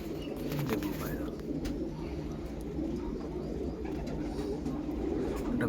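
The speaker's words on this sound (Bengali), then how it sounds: "দেখুন পায়রা" A pair of Shira pigeons, one male and one female, coo steadily at close range, a continuous low warbling murmur that runs unbroken beneath faint background hiss.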